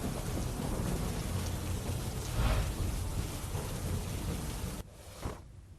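Heavy unseasonal rain roars steadily during a thunderstorm in Gujarat, with a deep thunder rumble swelling midway before the downpour cuts to a quieter patter near the end.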